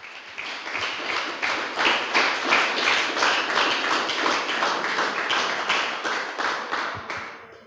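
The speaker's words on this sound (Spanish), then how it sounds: "Denle un aplauso fuerte una vez más al Señor." Church congregation gives a strong round of applause, dense steady clapping from many hands that rises quickly, holds evenly, then fades at the end, with no talking.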